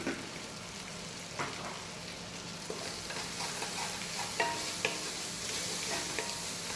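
Spices with turmeric powder sizzle steadily in a hot pan for mandi biryani while a utensil stirs and scrapes now and then, giving occasional soft clicks over the constant frying hiss.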